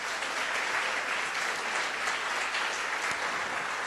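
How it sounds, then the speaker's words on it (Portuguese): Church congregation applauding during a sermon, a steady wash of clapping from many people throughout, moderately distant and even. "Você pode aplaudir o Senhor mais uma vez?"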